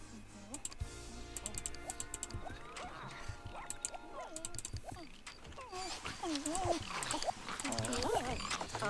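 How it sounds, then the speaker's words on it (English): Dogs in The Sims 1 barking and whining in short bursts through a busy household scene, with game chatter and keyboard-like clicks mixed in. "There's so many dog noises in this family at all times."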